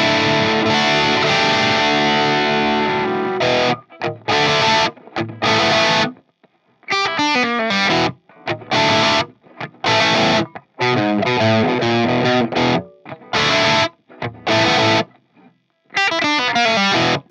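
Distorted electric guitar played through a KSR Amps Eros boost and EQ pedal, loud crunchy chords and riffs, choppy with stops between phrases and no talking.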